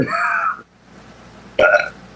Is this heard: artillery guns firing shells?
no